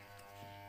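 Electric hair clipper set to a 0.3 guard length, buzzing steadily and close up as it passes lightly over a line in a short fade haircut, with no talking.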